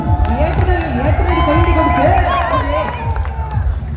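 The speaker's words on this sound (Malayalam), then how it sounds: "കൈയടി കൈയടി" A live crowd at a stage event claps and cheers loudly and steadily throughout, with shouts and voices mixed into the applause and music tones running beneath it.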